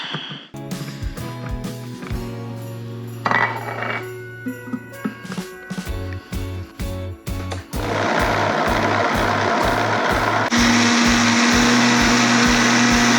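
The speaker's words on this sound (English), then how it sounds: "Let's see how this ancient Vitamix does with this." An old Vitamix blender churns thick chestnut bisque, starting with choppy, labored bursts as the motor strains against the dense mixture, then settling into a loud, steady high-speed roar that grows brighter and more whining toward the end.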